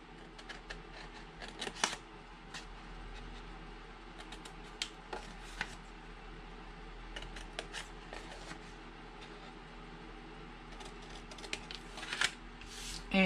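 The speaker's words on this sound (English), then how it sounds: "So I'm just going to cut them out." Scissors cut paper rectangles for a handmade paper craft box, giving faint, scattered snips and small paper rustles up close over a quiet room with low hum, and no speech.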